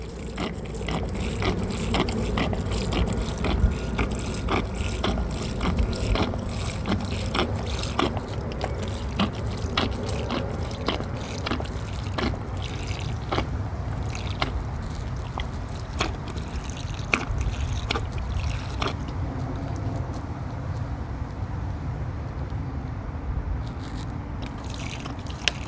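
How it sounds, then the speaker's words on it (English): Water pouring into a potted Gazania cutting and draining out the bottom hole, a steady trickle with scattered drips throughout, close and fairly quiet, no talking. "I'm going to water this plant, just water thoroughly, and until you can see the water coming out from the bottom drainage hole"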